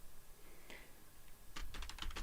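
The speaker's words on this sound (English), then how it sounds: "Let me type that." Quick bursts of keystrokes on a computer keyboard, a single tap early on and then a clustered run of clicks, close and moderately loud against a quiet room.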